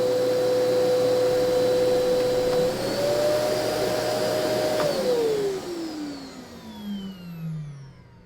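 An Airsign three-speed shop vacuum runs with a loud, steady motor whine that shifts speed once, then winds down as it is switched off, the pitch falling away gradually.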